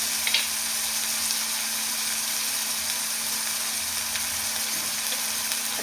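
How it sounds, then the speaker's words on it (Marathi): Chopped onion sizzles in well-heated oil for a potato dry curry, a loud, even frying hiss that stays steady and close throughout, with no speech over it. "तेल चांगलं गरम झालं, त्याच्यामध्ये कांदा टाकला"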